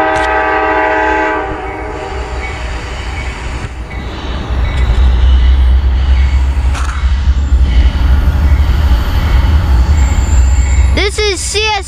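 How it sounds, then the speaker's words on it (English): A CSX coal freight train passes Halethorpe station in Maryland, a loud rumbling approach with rolling wheel noise building close by, then sharp horn blasts near the end, while people talk over it. "It's a coal train."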